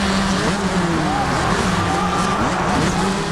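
Motocross bikes racing in a video game, a steady dense engine drone with wavering whining pitch lines as the bikes rev and shift, continuous and fairly loud throughout.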